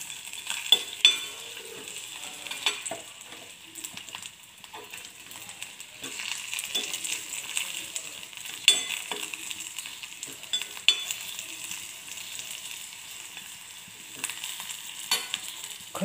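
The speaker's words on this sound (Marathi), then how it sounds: "खजूर जास्त वेळ परतायचे आहे." Peeled dates being sautéed in a pan for date kheer, a soft, low sizzle with intermittent light scrapes and clicks of stirring, fairly quiet and close.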